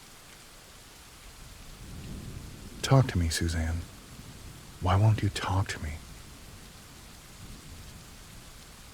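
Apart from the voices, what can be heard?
rain and thunder outside a hotel room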